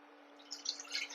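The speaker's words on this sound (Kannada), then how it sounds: "ಈಗ ಅದಕ್ಕೆ ಸ್ವಲ್ಪ ನೀರು ಹಾಕ್ತೀನಿ" Water poured into a pressure cooker, a faint splashing and trickling that grows livelier toward the end, heard alone and close.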